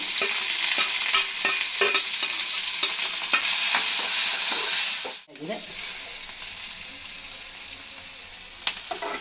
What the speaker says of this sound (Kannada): ಒಣಮೆಣಸಿನ್ಕಾಯಿ ಒಗ್ಗರಣೆ ಹಾಕೋತಾ ಇದ್ದೀನಿ.